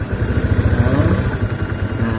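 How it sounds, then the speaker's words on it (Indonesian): A Honda Beat Pop scooter engine idles close by with a steady, pulsing chug and slight rattle, running evenly after being started. "Ketika mesin hidup, coba lihat."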